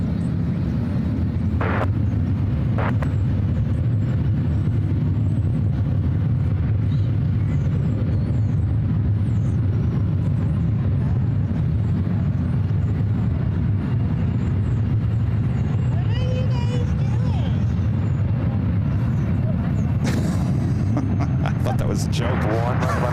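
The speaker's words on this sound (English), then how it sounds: "At the E-Jet taking off first." A jet airliner taking off at SFO makes a loud, continuous low roar that fills the whole stretch, with a person talking over it.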